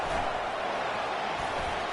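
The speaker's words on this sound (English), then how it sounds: "Listen to the crowd energy here in the early going." Stadium crowd roar in a college football video game, Clemson facing third-ranked FSU, a steady dense wash of cheering noise filling the whole stretch without letup.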